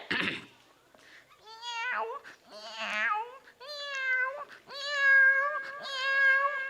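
A stage performer imitates a kitten with a voice, giving a series of high, tonal meows and mews in bursts, some drawn out and plaintive, close and clear.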